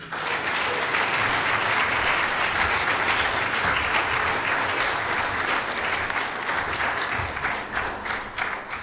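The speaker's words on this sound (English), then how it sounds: "give these guys a big round of applause" Loud, dense applause from a large crowd at a sports banquet fills the whole stretch, steady throughout and easing slightly near the end.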